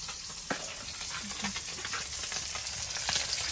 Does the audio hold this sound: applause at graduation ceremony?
no